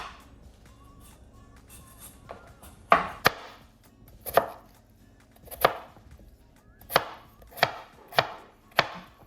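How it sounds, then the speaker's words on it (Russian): A knife chopping potatoes into small cubes on a cutting board, about ten sharp, evenly spaced knocks, close and clear with no talking. "И картошечку нарезаем точно таким же мелким кубиком"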